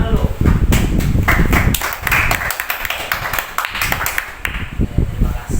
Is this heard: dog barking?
no